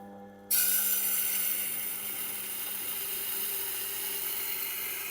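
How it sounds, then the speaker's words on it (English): An inexpensive knife's edge is ground on a sharpener to raise a burr, giving a steady, close, continuous abrasive whirring grind that starts abruptly and holds evenly, with no talking. "It's a bit thin on this side, so I'll give this one another grind."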